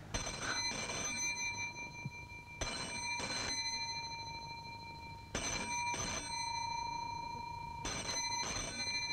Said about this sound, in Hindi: टेलीफोन। Telephone ji.